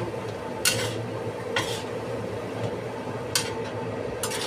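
A spatula or utensil scrapes and clinks against a pan while bean curd and green beans are mixed, a few sharp metallic hits spaced out over a low steady background hum.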